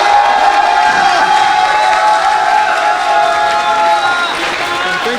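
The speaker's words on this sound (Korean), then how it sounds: "승리하신 갓균 선수께 뜨거운 박수 부탁드리겠습니다" A crowd cheers and applauds the winner of a kickboxing-versus-judo fight, a loud, dense, continuous roar of shouts and clapping that fills the whole clip and eases slightly near the end.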